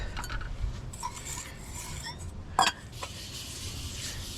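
Rust being scrubbed off a machined metal surface on a planer: faint, uneven raspy rubbing strokes with a sharp scrape near the middle and light clinks, no talking.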